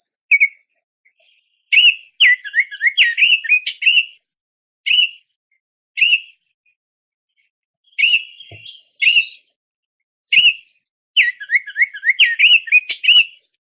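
Clear, high whistled Baltimore oriole song in repeated short phrases separated by pauses, close and loud against near silence.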